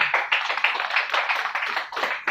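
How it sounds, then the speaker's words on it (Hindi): A small audience claps at a presentation, quick, distinct hand claps in an uneven burst, fairly close and moderately loud with no talking. "इसी बात पे ताली बजा दो"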